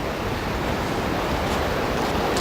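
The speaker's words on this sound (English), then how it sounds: "You can hear the water draining away down below" Water drains away below swampy ground after a flood, a steady, close rushing wash that fills the whole stretch without a break and with no voices.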